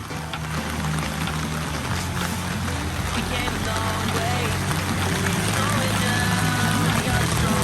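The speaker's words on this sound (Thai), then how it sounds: "ตอนนี้ฝนตกนะครับ" Rain falls at a garden campsite in Saraburi, Thailand, a continuous dense hiss that stays loud throughout while people talk over it.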